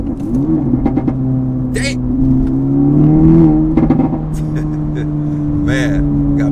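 An Acura Integra Type S four-cylinder on its stock tune, fitted with a Milltek catback exhaust, idles with a deep, steady drone and rises into a brief rev. Someone speaks over the engine.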